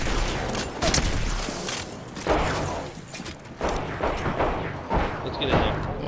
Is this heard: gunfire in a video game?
yes